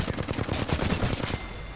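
Quick bursts of automatic rifle fire in the video game Predator: Hunting Grounds, rapid evenly spaced shots up close that thin out and fade after about a second and a half.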